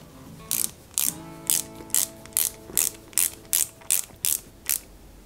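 Screws being driven into a metal part of a 1/8 scale Ford Gran Torino model kit, about ten regular crisp ratcheting clicks from a screwdriver, close and clear with no talk.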